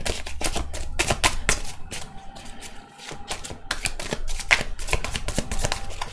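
Tarot cards being shuffled by hand in quick, crisp bursts of riffling and tapping, close and dry, with a brief pause midway before the shuffling resumes.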